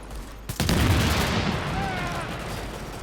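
Gunfire in the video game The Division: a sharp shot followed by sustained, dense rapid firing that continues loudly through the rest of the clip.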